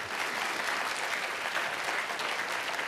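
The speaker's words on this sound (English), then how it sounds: "Please applause to the speech by Laureate of 2014 Tang Prize in Biopharmaceutical Science, Dr. James P. Ellison." Audience applause at an academic prize laureate lecture on biopharmaceutical science, a dense steady wash of clapping from a large hall crowd, moderately distant and continuous.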